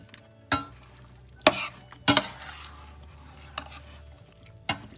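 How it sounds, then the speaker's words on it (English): Cajun-seasoned meat being stirred in a pan, a few sharp scrapes and clatters of a utensil against the pan spaced over a quiet background with faint sizzling. "Now we're just gonna stir all this together."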